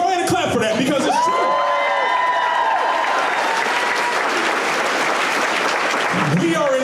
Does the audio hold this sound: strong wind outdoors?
no